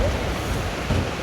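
Strong storm wind roars and buffets the microphone in a brief, loud, rumbling gust during rain.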